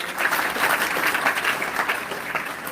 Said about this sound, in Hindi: ताली लगाओ इसके लिए जरा।